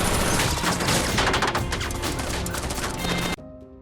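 Heavy gunfire from the action film London Has Fallen: dense, continuous bursts of automatic fire and crashes, loud and close, that stop suddenly near the end.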